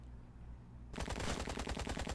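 In the video game Empire of Sin, after a moment of quiet hum, a rapid burst of automatic gunfire rattles out loudly and continuously.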